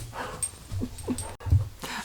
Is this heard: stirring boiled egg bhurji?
no